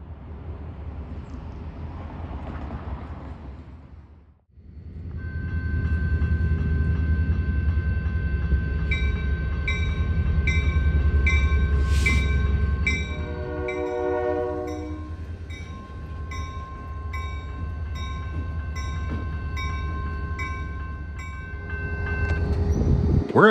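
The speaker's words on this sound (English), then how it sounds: "Albany and Eastern 2501 is an EMD GP35." Albany and Eastern EMD GP35 diesel locomotive passing at a crossing: a deep engine rumble builds, the horn sounds in long blasts with crossing bells ringing, then rail cars roll by steadily.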